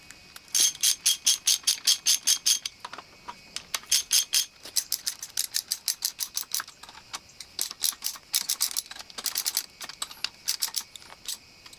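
Rapid metallic ratcheting from a socket wrench tightening connecting rod bolts while pistons are installed in a Triumph TR4 engine rebuild, heard as close bursts of quick clicks separated by brief pauses, with no talk.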